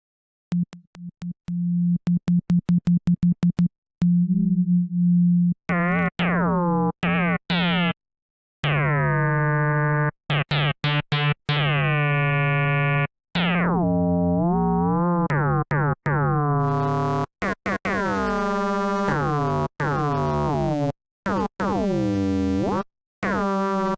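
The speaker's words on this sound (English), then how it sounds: "maybe we can actually just try to start just with 2 waves like this, 2 just sine waves" A Virus TI synthesizer playing an FM patch built from two sine waves sounds a sequence of pitched tones, some steady, some bending or chirping downward, with short gaps between notes and a buzzier, brighter texture near the end.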